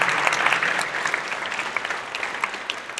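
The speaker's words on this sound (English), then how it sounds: "How about another round of applause for this wonderful musicians here?" Applause for the musicians at the PA State Capitol Annual Friendship Dinner, a full room clapping steadily, bright and dense at first and gradually thinning toward the end.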